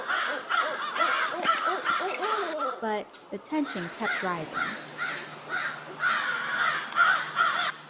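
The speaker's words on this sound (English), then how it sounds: "The crows eventually focused their attention on one of the owls, circling closer and calling louder." Crows caw repeatedly in a park, pressing close around a barred owl, their harsh calls loud and insistent throughout while a person talks over them.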